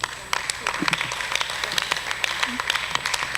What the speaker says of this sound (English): A round of applause for Oshogbo High School.